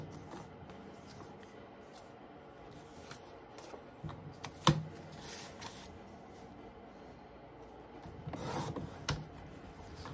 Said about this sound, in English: This little trimmer